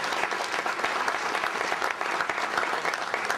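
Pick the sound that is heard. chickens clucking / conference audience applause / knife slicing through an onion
conference audience applause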